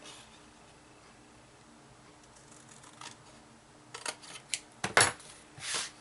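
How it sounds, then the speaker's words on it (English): Dull scissors snip through paper in a few quick, crisp cuts near the end, following quiet room tone, close and fairly faint. "I think these scissors are getting kind of dull here."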